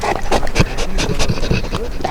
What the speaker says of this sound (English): Hey, big dog.